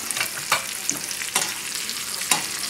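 Cajun Creole chicken tenders sizzle and crackle in a thick-bottomed skillet, with a steady frying hiss and a few louder spatters and stirring scrapes, close by and with no talk.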